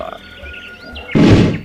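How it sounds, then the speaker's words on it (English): A bullfrog lets out a single loud, deep croak near the end, close and alone after a quiet stretch. "This is a bullfrog. It is a large frog."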